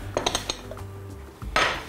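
A small cooking pot handled in a home kitchen, a few quick metallic clinks and knocks close by, then a louder scrape near the end, no talk.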